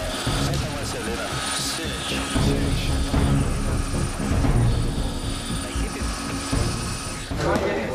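A police helicopter lifting off near São Mateus in Brazil gives a loud, steady rotor and engine drone that swells and shifts over several seconds, with radio chatter and voices over it.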